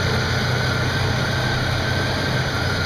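A 1972 Oldsmobile Delta 88 V8 idles with the choke fully on, a steady, loud, close engine drone with a slight rough shake and no talk.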